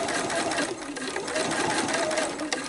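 A sewing machine runs steadily, stitching along the folded edge of a fabric placemat held flat on the machine bed, with a continuous close whir throughout.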